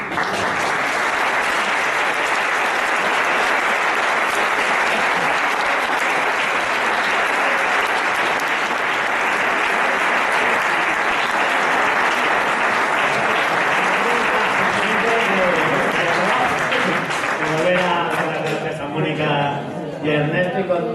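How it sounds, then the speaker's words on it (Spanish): A seated audience at a Spanish-language political talk event claps steadily and loudly for about twenty seconds, a dense sustained roar of hands that thins slightly near the end. "Venga, otro aplauso para ellos."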